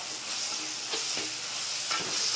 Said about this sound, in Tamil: எல்லாத்தையும் நல்லா வதக்குங்க